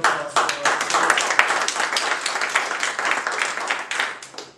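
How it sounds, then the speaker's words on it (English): Toastmasters meeting audience applauding at an evaluation contest, dense, lively clapping close by that swells and then tapers off near the end, with little else beneath it. "may I ask everyone for a round of applause for"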